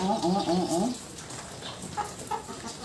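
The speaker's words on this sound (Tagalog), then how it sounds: "May mga manok pa." Several birdlike clucking calls in a quick burst at the start, then fainter scattered clucks over a low background murmur.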